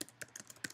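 Typing on a computer keyboard: a few quick, soft key taps in under a second, close and quiet.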